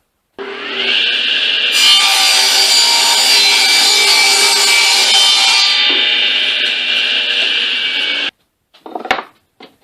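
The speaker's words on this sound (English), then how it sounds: "I'll have to cut it to length, or width, excuse me, and I'll do that on the table saw" Table saw ripping 3/4 inch plywood, close and loud: a steady whining cut lasting about eight seconds that cuts off abruptly, followed by a few brief knocks as the board is handled.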